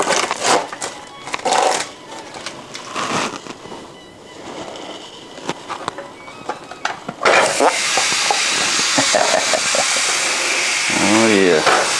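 Lean ground beef sizzles in a hot skillet while being broken up for tacos, a crackling, popping hiss that swells sharply louder and denser partway through, with scraping stirs and brief bursts of noise.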